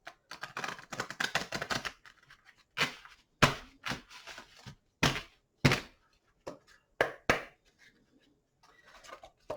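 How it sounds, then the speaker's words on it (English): Tarot cards shuffled by hand during a reading, giving a dense run of riffling flutter followed by a series of sharp, separate slaps and taps as the deck is cut and squared, close and fairly quiet. "I might just give them a little bit of a shuffle here to get the answer for you"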